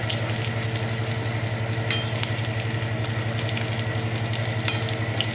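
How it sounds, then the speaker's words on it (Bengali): Continuous crackling sizzle of potatoes frying in hot oil, close and steady, with a couple of brief clinks partway through. "আলুটাও একটু ভেজে নেবো"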